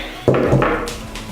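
Egg and flour pancake batter being stirred in a bowl, with a sharp knock of utensil against the bowl followed by a brief scraping and clinking, close up with no talking.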